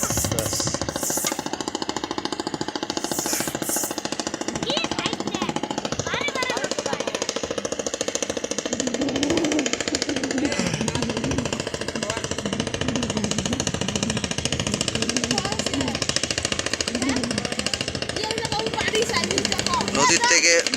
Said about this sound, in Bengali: নদীর থেকে বালু তোলা ট্রলার যাচ্ছে,